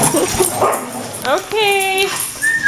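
Dog whimpering and yipping at a dog daycare, a few short barks followed by a long rising whine, close by, with someone talking over it.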